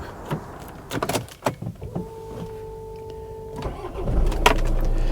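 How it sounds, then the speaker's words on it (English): A Kia Sportage's common rail diesel engine is cranked on a cold day and catches after a short starter whir, settling into a steady close idle, preceded by clicks and knocks from inside the car. "I'm impressed at how well it starts."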